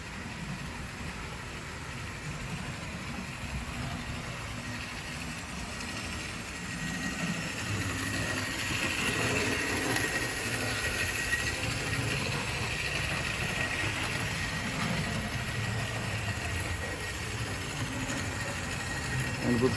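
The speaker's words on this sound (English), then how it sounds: "And with full power applied, it will in fact pull the weight of the train" A model train locomotive hauls a heavy train at full power, its motor producing a steady whirring hum with rail rumble that grows slightly louder midway, continuous throughout.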